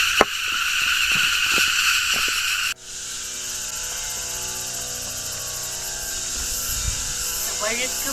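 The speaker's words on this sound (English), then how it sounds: "I am going down the 2nd hill, enjoying the orchestra of the cicadas." Cicadas on a hill trail at Velliangiri Hills sing in a dense, continuous high buzz that shifts abruptly to a different pulsing drone partway through, loud and surrounding, with faint footsteps beneath.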